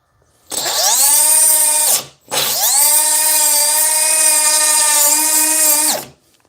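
A Milwaukee M12 Fuel 2522 cut-off tool with a brand-new blade cutting drywall gives a loud, steady high-pitched whine in two long runs split by a brief dip.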